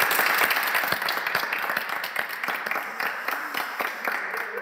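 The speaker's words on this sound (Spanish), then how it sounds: "Fuerte aplauso, por favor." An audience applauds after a song at an intimate live music session, with a dense, sustained patter of many hands clapping at close range and a few faint voices underneath.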